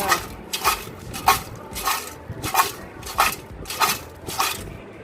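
Fried tapioca chips tossed with salt and chili powder in a metal bowl, giving a close, rhythmic series of crisp rattling scrapes and clatters, about eight strokes at a steady pace with no talk.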